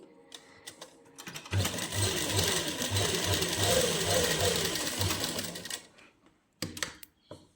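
Sewing machine running steadily as it stitches lining onto thin fabric for a party-wear suit, a loud continuous whirring with rhythmic low thumps for about four seconds, then stopping, with brief handling clicks afterward and no talking.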